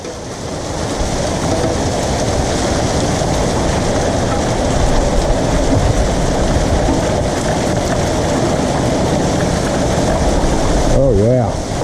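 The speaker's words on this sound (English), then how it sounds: "Here's some hail here." Hailstorm pouring down just outside an open garage in The Villages, a dense, steady roar of stones clattering on the ground that stays loud throughout, with a brief spoken voice near the end.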